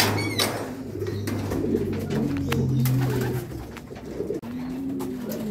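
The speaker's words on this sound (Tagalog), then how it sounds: "Ayan na mga tol, nagdatingan na yung mga ibon natin." Racing pigeons returning home at the end of the last lap of a five-lap fun race, with steady low cooing close by and occasional wingbeats and rustling around the loft.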